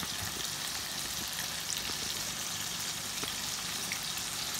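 Onions frying in a karahi give a steady, close hiss and crackle of hot oil with small pops scattered through it, and no voices over it.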